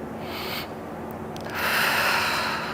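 Breathing in and out during pelvic floor exercise, a soft inhale followed by a louder, breathy exhale, close to the microphone, with no speech.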